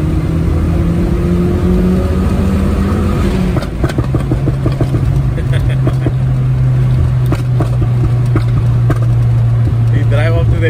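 A VW Polo GTI's decatted stock exhaust drones loudly and rises in pitch as the engine revs, with a rough throaty rumble throughout.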